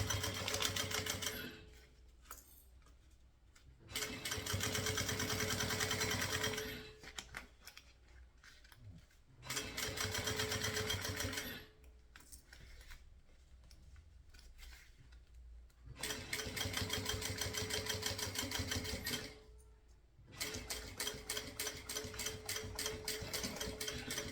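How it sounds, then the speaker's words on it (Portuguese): A sewing machine runs close by in three long stitching bursts on a synthetic-material crossbody bag, separated by short pauses and quieter handling, with a final stretch of rapid, evenly pulsed stitches. "E já vou costurar direto"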